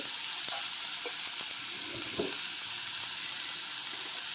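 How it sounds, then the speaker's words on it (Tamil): Onions sautéing in a pan with turmeric powder for a shark fish curry, a constant close sizzle with a few soft stirring scrapes and taps, no voices. "இந்த வெங்காயத்திலேயே தேவையான அளவுக்கு மஞ்சள் பொடி,"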